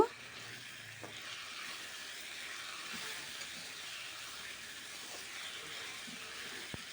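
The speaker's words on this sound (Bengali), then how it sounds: "জিরে বাটাটাকে দিয়েও আমি ভালো করে কষিয়ে নেব" Cumin paste and ginger paste frying in a pan for a silver carp fish dish, giving a soft, steady sizzle and hiss throughout, with a few faint clicks of stirring and no talk.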